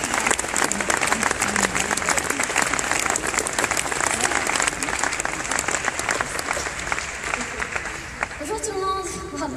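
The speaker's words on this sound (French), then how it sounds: "Alors vous pouvez tous, sous un tonnerre d'applaudissements," Thunderous applause fills a conference hall as an audience welcomes a speaker to the stage: dense, sustained clapping for nearly ten seconds, with crowd voices and some whistles near the end.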